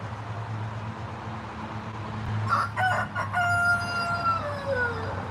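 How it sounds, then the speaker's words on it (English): A rooster crows a single drawn-out cock-a-doodle-doo, loud and fairly close, rising over a low steady background hum. "Can we get a cock-a-doodle-doo, Mr. Fabio?"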